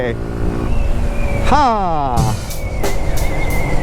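A Suzuki Gixxer motorcycle engine, fitted with an RCB E2 clutch, revs up with a rising whine and then drops back, running steadily underneath someone talking over it.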